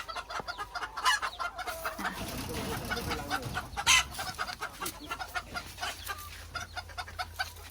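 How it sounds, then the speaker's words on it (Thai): Chickens and small chicks cluck and peep on a farm in a busy, overlapping chorus that stays close and fairly steady throughout, with one louder squawk near the middle. "มาดูลูกไก่ทางนี้มา"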